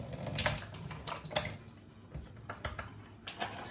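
Water splashes and trickles in uneven bursts as orchid roots are rinsed in a container. The sound is close and fairly faint, with no talking.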